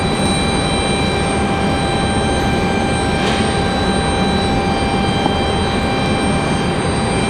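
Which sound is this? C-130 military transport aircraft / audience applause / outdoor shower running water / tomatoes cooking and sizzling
C-130 military transport aircraft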